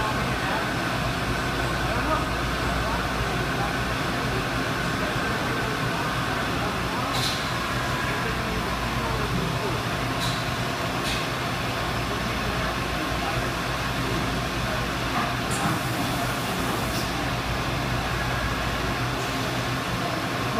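A Mori Seiki SuperMiller 400 five-axis CNC mill staging its next tool gives a steady mechanical hum and whir in a workshop, with a few faint brief clicks and hisses, heard continuously without talk.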